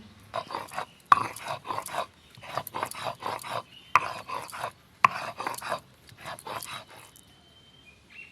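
Soaked poppy seeds being ground into a paste on a stone, a close, rhythmic rasping scrape in repeated bursts of back-and-forth strokes, with brief pauses between rounds and no voices.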